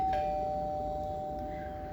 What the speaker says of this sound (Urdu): ڈور بیل بجی تھی